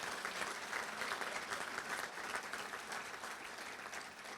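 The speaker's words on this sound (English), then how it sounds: "I think we need a round of applause for this incredible class that was selected this year" Sustained applause from the audience at a 2022 hall of fame awards dinner, a steady wash of many hands clapping, somewhat distant and even throughout.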